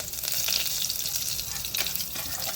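Dried chili, bay leaf, cloves, cinnamon and peanuts sizzling in hot oil for a vegetable khichdi tempering, a steady close crackling fry with brief stirring scrapes.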